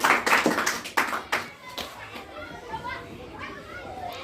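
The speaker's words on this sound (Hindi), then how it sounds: "और जोरदार तालियां तृप्ति के लिए" Applause for contestant Tripti at a National Constitution Day quiz-show event, a burst of clapping from children that is loud at first and then fades into lively kids' chatter and crowd noise.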